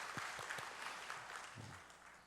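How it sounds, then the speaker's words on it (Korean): A church congregation applauds during a Sunday service, scattered claps building into quiet, distant applause, with a faint low thump partway through. "하나님께 영광의 박수 올려드립니다"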